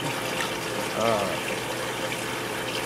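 Tank water is poured into a container as a clean rinse dip for newly acclimated aquarium fish, a steady splashing trickle with a brief louder gush partway through, close up.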